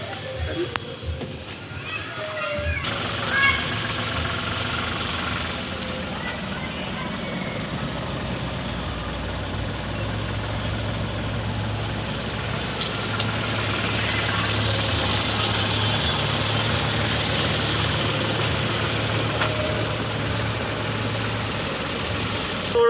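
A 2020 Ashok Leyland Dost Plus truck engine, about 130,000 km on it, idles with a steady low, throbbing rumble that runs unbroken throughout, close by and fairly loud.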